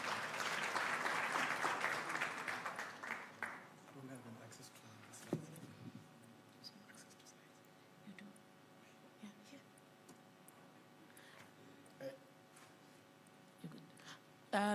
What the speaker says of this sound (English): Can we just encourage him with a round of applause?